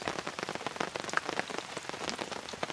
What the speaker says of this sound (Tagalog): Magdamag, umuulan. Yun nga lang, hanggang ngayon naulan pa rin.